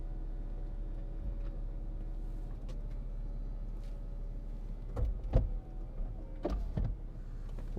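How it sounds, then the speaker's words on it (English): Electric windows of a 2006 Mercedes-Benz SLK280 with its 7G-Tronic gearbox whir down inside the parked car, with a low steady hum underneath and a few soft thumps and clunks as they stop. "I can't remember how far down the windows go, but let me just see"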